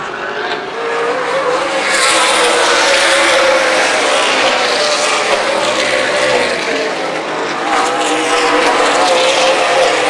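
Race cars lapping an oval at Dixie Motor Speedway during a 100-lap main event, engines roaring loudly and continuously as the pack sweeps past, with a swelling and fading drone of several cars together.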